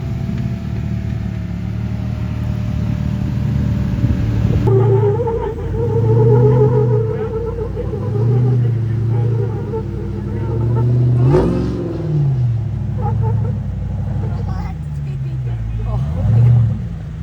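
Jeeps, including a Demon-powered Gladiator on 42-inch tires, and a Can-Am Maverick R side-by-side crawl off-road in Moab, engines revving and droning in repeated surges close by while people talk.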